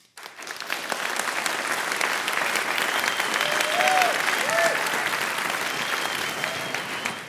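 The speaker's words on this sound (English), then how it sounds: "I think that applause is for everyone" Sustained applause from a lecture audience at the close of a twelve-part biblical lecture series on Abraham and Isaac, a dense steady clapping wash lasting throughout, with a few faint whistles rising above it midway.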